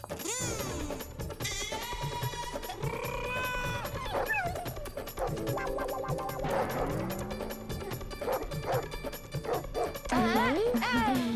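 A big cartoon dog barks and yips among music and other animated sound effects, the loud barks set against a busy, continuous comedy scene.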